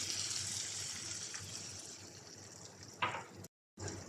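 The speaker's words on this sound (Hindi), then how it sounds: "अब हम इसमें 1 कप पानी ऐड करेंगे।" Water poured into frying chicken curry gravy, a steady wet rush into the sizzling pan with a brief louder splash near the end.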